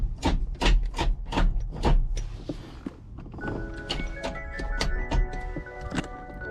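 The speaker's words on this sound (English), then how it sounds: "we're gonna grab a wrench, tighten that up right there." Wrench tightening a short shifter in a car, giving a series of sharp metallic clicks and thunks at a steady ratchet-like rhythm, close up, then softer rubbing and a ringing metallic tone near the end.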